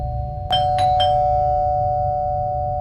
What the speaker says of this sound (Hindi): वो लोग बात ही कर रहे थे कि फिर से डोरबेल बजती है।